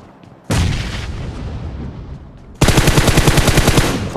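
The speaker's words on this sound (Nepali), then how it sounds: "त्यहाँ गोली फायरिङ भएको सुन्नु न" A loud burst of gunfire erupts, followed by a rapid, rhythmic stream of machine-gun shots, close and harsh.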